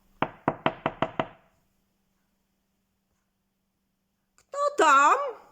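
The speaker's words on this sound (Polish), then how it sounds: "Zrezygnowany wilk poczłapał do drzwi i zapukał." Six quick, crisp knocks on a door in a steady run, followed by silence and then a voice speaking.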